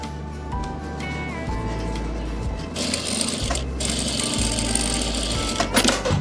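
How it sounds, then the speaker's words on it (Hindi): A sewing machine stitches a kali-panel frock or kurti in several steady mechanical runs broken by short pauses, loud and close throughout. "तो गाइज़ अब आपने ऊपर की तरफ ऐसी सिलाई लगा देनी है।"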